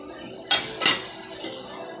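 Spices and chili drop into a cooking pot for halang-halang chicken stew, giving a quick clatter and clink of utensil on metal and a short splash, then quiet kitchen background.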